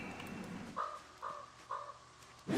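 Crows in the video game Project Zomboid caw three times in even, distinct calls over a steady background hum, fairly near and moderately loud.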